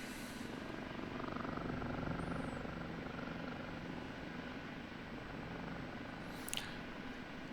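An OH-58D Kiowa Warrior helicopter in the DCS flight simulator game: steady rotor thrum and engine drone fill the scene continuously, even and moderately loud, with a brief high chirp near the end.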